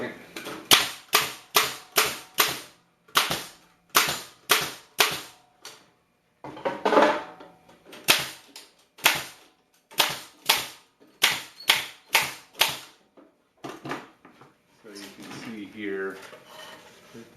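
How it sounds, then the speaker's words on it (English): A staple gun drives staples through screen into the cleat of a wooden slat beehive bottom board, firing in quick bursts of sharp, loud snaps with short pauses between, then a few softer clicks and handling noises at the end. "allows me then to staple down the screen"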